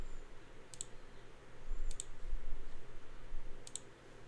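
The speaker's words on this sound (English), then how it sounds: "I don't know if you hear me clicking around" Computer mouse clicking at a desk, three quick double clicks spaced a second or more apart over a low room hum.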